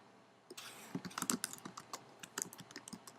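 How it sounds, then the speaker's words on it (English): Rapid, close clicking of keys on a computer keyboard fills the quiet, typing in irregular bursts with no voices. "You can use the Tab key on your keyboard to move from field to field"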